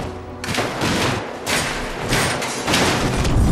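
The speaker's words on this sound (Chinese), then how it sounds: "几人也连忙开枪掩护" Rapid gunfire in a gun battle scene from a Johnnie To action film, with repeated loud shots and thuds ringing out in quick bursts over a reverberant, continuous background.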